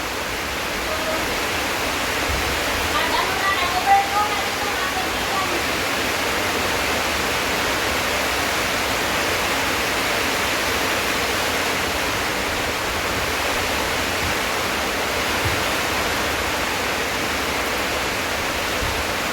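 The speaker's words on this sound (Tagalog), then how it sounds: "sobrang lakas ng tubig" Overflowing water driven by heavy rain rushes loudly and continuously nearby, a dense, unbroken roar that stays at the same level from start to finish.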